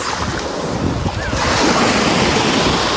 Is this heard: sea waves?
yes